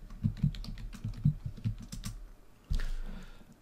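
Rapid keystrokes on a computer keyboard as a command is typed into the Windows command prompt, a close, steady run of clicks followed by a firmer final key press, with no talking.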